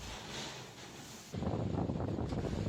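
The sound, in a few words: strong typhoon wind and rain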